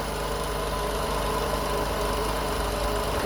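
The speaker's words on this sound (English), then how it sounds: "Will it run? Honda Civic, Vtec motor." Honda Civic VTEC engine from a wrecked 2003 car that sat unused for over 10 years, running at a steady idle with a continuous low hum and faint vibration, no talk.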